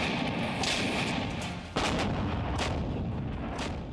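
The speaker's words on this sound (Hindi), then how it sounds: "ये वो जगह है जहां दोनों पक्षों के बीच लगातार बिना रुके कई दिनों से गोलाबारी हो रही है" Artillery shelling in the mountains of Kargil during wartime: a continuous heavy rumble of distant gunfire with a sharp, louder blast near the middle, sustained throughout without voices.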